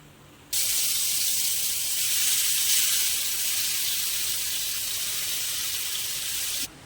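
Half a kilo of fresh cleaned prawns is dropped into hot oil for a Kerala-style prawn roast, breaking into a loud, steady sizzling hiss that runs unbroken for several seconds before cutting off abruptly.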